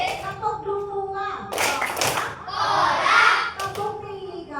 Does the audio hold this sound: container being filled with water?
no